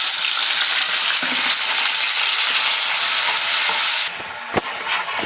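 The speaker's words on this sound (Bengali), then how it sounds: "পেঁয়াজ বাটা দিয়ে খানিকক্ষণ নাড়িয়ে নিতে হবে যেন পেঁয়াজের কাঁচা গন্ধটা না থাকে" Onion, cumin and tomato paste frying in oil while being stirred, a loud steady sizzle filling the clip that drops off sharply near the end, with a brief clink of the spoon against the pan.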